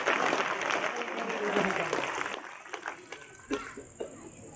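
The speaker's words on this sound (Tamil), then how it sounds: "கைத்தட்டல் கொஞ்சமா வருதுன்னா என்ன அர்த்தம்?" An audience at a motivational speech claps loudly at first, then the applause thins out into scattered claps before dying away.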